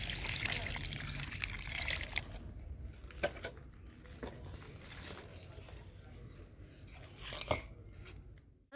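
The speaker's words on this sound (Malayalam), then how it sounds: "വെള്ളം ഒഴിച്ചു കൊടുക്കുകയാണ്" Water is poured in a steady stream onto a potted ixora plant for a couple of seconds, then trickles and drips softly into soil.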